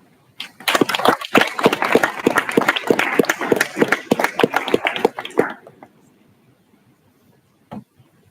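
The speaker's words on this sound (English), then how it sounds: "I just want to give a round of applause for them" An audience claps for a team at a Hack the Future final showcase, dense close applause lasting about five seconds before it stops abruptly, leaving near silence with one faint clap afterward.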